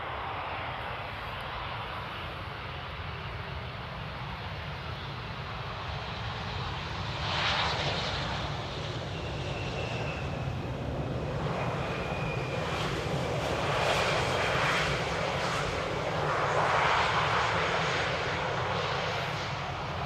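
An airliner lands in the rain at Amsterdam during its final flare, producing a broad, loud jet roar that swells slightly as it passes, with hissing surges and a rising whine over a rumbling low end.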